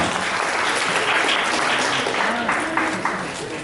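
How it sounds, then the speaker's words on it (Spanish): Sustained audience applause for Dr. Boris Espezúa at a lecture on the cultural challenges in Churata's work; dense, steady clapping from a full room that holds for several seconds with a faint murmur of voices underneath. "Pedimos un fuerte aplauso para el doctor Boris Espesúa"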